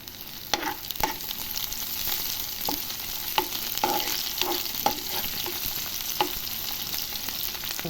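Carrot and beetroot pieces fry in a pan with a steady, close sizzle, broken by frequent stirring scrapes and light knocks of a spoon against the pan.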